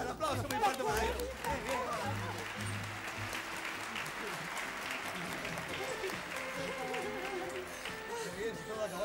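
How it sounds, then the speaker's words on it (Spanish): Studio audience of a 1980 Spanish television game show applauds loudly and steadily, with chatter and crowd voices mixed in throughout. "¡Un aplauso muy fuerte para él!"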